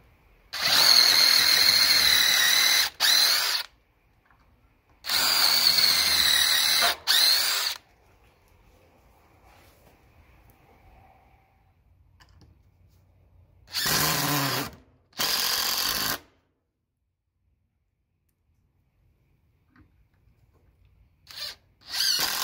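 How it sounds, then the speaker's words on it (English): A power drill bores holes while a fence gate with hardware cloth is built, in several loud whirring bursts of two to three seconds each, separated by quiet pauses, with a brief final burst at the end. "I'm gonna go ahead and drill these two."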